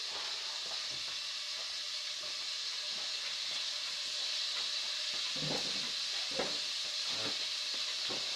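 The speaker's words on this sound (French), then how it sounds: "Il s'agit de faire dorer les petits morceaux." Small pieces of beef browning in a pan for braised beef, heard as a steady, soft hiss of sizzling fat with occasional faint clinks and stirring touches.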